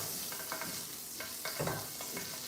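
Diced mushrooms frying in a pan over moderate heat, a steady sizzle with a few scraping stirs.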